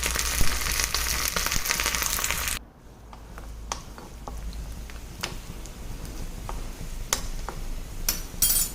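Shallots, curry leaves and dried chillies fry in oil over a medium flame for a green mango curry. A loud burst of sizzle dies down suddenly, and a softer, steady crackle follows with scattered pops.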